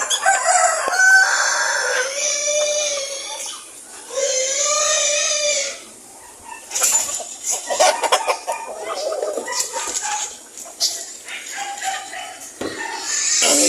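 White and native chickens and roosters at feeding time cluck and crow, with several loud crows in the first seconds followed by a busy, overlapping chatter of clucks and calls close by.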